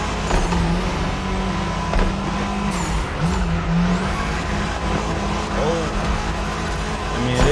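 A Mini Cooper, front-wheel drive, in the racing game The Crew Motorfest, with a steady engine drone that rises and shifts as it accelerates, plus faint tire noise throughout.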